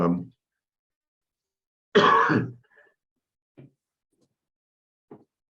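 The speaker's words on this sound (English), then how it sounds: "coughing and spluttering here" A burst of coughing and spluttering, followed by a few faint, short throat sounds spaced out in near silence.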